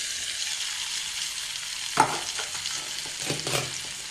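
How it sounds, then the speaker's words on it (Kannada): Boiled raw banana pieces tumble into a hot tempering of salt, tamarind, jaggery and chilli and are stirred, giving a steady close sizzle with a sharper clatter as they land, then scraping stir strokes. "ಈಗ ಬೇಯಿಸ್ಕೊಂಡಿರೋ ಬಾಳೆಕಾಯಿ ಹೋಳು ಹಾಕ್ತೀನಿ."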